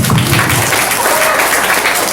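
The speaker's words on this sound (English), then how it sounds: "Let's give a round of applause." Audience applause at an Andrew Yang campaign event in Detroit, a dense steady wash of many hands clapping that holds at full loudness throughout.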